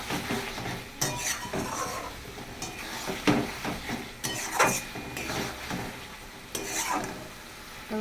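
Katla fish curry being stirred and fried in a pan, with repeated scraping strokes of a utensil against the pan over a low, steady sizzle, close and with no talking.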